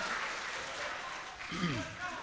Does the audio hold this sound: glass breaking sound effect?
no